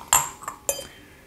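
Two large ice cubes dropping into a clear crystal glass for a gin and tonic, giving two bright, ringing clinks a fraction of a second apart with a softer tap between, close up and without voices.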